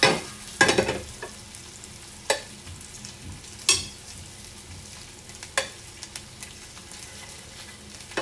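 Meatballs browning in a hot pan, for a spaghetti meatballs casserole, give off a steady low sizzle, broken every second or so by sharp clatters and scrapes as they are stirred and turned; no voices.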